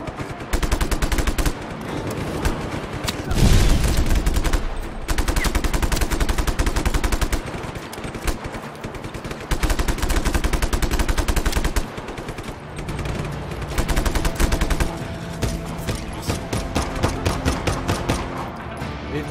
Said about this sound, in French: tire beaucoup par ici